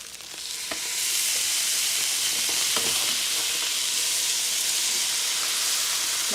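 A steady, bright sizzle of fish frying in a hot pan swells up after a second, with a few soft scrapes and taps over the hiss.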